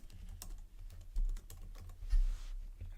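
Fingers type on a computer keyboard in quick, uneven bursts of clicks, close and fairly soft, with two heavier key thumps and no talking.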